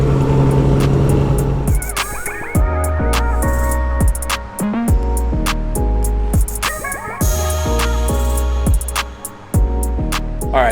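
Loud cabin drone inside a modified MK4 Toyota Supra missing its transmission tunnel seals, the engine revving up and dropping back through repeated gear changes, strong low rumble and whine filling the car with no talk.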